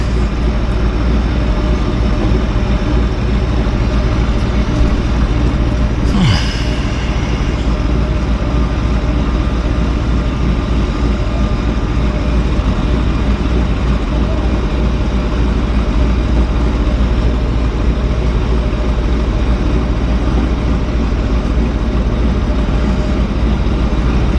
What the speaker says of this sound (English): Hear that? Yeah, that's lovely sound, round engine sound.